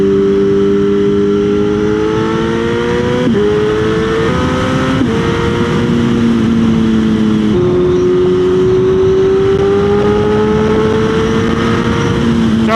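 Motorcycle revving and accelerating: a loud, close engine note climbs through several gears, each step marked by a brief dip and rise in pitch, continuous and without talk.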